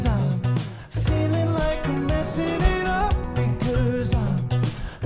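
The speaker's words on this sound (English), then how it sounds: "Yeah, that guitar is really nice" A funky electric guitar riff plays in a busy groove with bass and drums, loud and continuous throughout, no voices.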